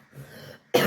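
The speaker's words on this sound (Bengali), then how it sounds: "আমার এখনও কাশি, এখনও ঠান্ডাটা রয়েছে ভেতরে, তো সেই জন্য বারবার কাশি হচ্ছে।" Someone with a cold makes a soft throat rasp, then one sharp, close, loud cough at the very end.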